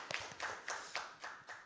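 Faint, sparse hand clapping at a launch ceremony for a youth mentoring program, a few evenly spaced claps ringing out in a quiet hall as the audience welcomes the next speaker.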